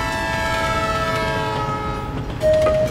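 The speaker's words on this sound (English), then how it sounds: "This is not a samosa, it's a train!" A cartoon train in a children's animated show rolls along steadily with a constant rumble and layered whistle-like tones, then a brighter, louder horn blast sounds near the end.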